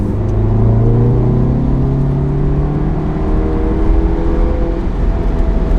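A VW Golf Mk7 R in sport mode pulls hard under full throttle, its engine note climbing steadily in pitch and holding high revs, loud and close from inside the cabin with a constant rumbling road drone beneath.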